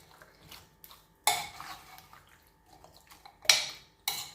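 A spoon stirring beef curry stock in a slow cooker, with a few close, bright scraping and clinking bursts against the pot and quiet pauses between.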